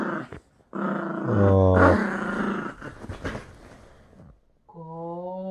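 Lhasa Apso and Yorkshire Terrier dogs growling and grunting while playing on a bed, close and loud in a continuous rumbling stretch, with a brief voiced exclamation and a short tonal whine near the end.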